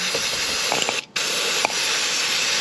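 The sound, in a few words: brake cleaner spray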